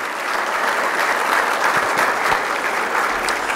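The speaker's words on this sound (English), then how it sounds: "Let's give this group a round of applause for their dedication and service to our university." Applause from the audience at a university athletics Hall of Fame induction ceremony, a loud, dense and sustained wash of many hands clapping evenly throughout.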